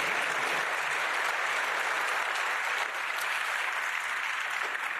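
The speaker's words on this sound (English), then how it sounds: "You can applaud them." Sustained applause from a large audience in the European Parliament hemicycle, a dense even clapping that fills the room at the opening of a regional policy event.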